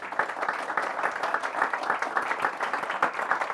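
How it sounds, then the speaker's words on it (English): An audience at a panel event on the European automotive aftermarket gives a dense, steady round of applause, many hands clapping together at a constant level for a few seconds. "Can I ask for a big round of applause for all of them?"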